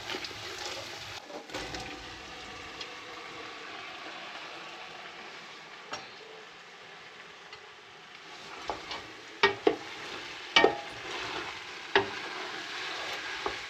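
Three spoonfuls of tomato paste sizzle in a frying pot while a spoon stirs them, giving a soft continuous fry with scattered scraping clicks that grow sharper toward the end, heard close up and quiet.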